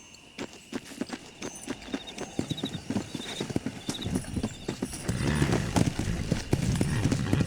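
Horse hooves clip-clop in a quick, steady rhythm during riding in Red Dead Redemption, close and clear, speeding into a faster gallop with louder, denser hoofbeats near the end; no speech.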